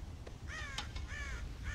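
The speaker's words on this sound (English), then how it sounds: "God damn crows!" Crows caw from the Red Dead Redemption video game, several harsh rasping calls in quick succession, fairly clear against a low steady background hum with no talk.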